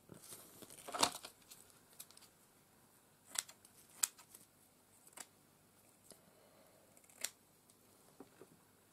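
Scissors cutting a piece of tulle: a handful of separate snips and rustling crinkles spread across several seconds, close and fairly quiet, with near silence between them.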